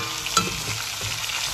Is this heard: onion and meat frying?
yes